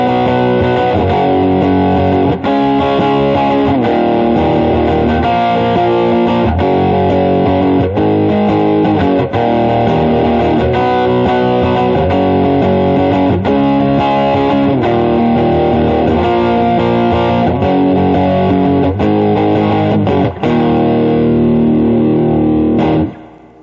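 An Orbital Flamelurker electric guitar on its front pickup with a heavily distorted tone, played as loud, sustained chugging chords and riffs with a steady rhythm, ending in an abrupt cutoff.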